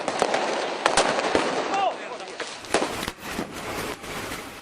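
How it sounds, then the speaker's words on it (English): Sharp fireworks bangs and crackles burst repeatedly amid a noisy street riot crowd, with whistling streaks and people shouting in the background. "launched fireworks, smoke bombs, and stones at police cordons"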